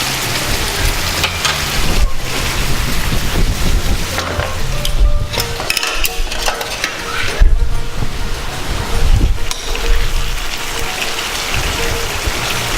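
Fresh potatoes sizzle steadily in hot oil, a loud continuous crackling hiss lasting throughout with occasional stirring noises.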